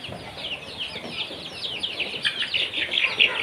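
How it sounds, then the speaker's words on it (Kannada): Two-month-old native chicken chicks peeping together, a continuous chorus of high, overlapping chirps close by that grows busier and louder toward the end. "ಇದೆಲ್ಲ ಎರಡು ತಿಂಗಳ ಕೋಳಿ ಮರಿಗಳು"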